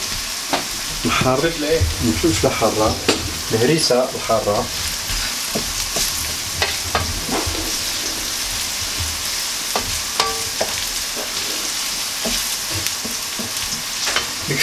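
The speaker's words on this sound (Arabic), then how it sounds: "درنا البصله ديالنا ها هي، خصنا نخليوها تتشحر مزيان" Onion fries in a pan with a steady, close sizzle that runs the whole time, and a voice talks over it early on before the crackling continues alone.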